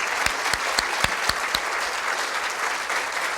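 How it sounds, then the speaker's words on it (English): An audience claps steadily at a podcast summit opening, a dense wash of applause with a few sharper individual claps near the start, moderately loud and continuous throughout. "one more round of applause for the Schillers and their team"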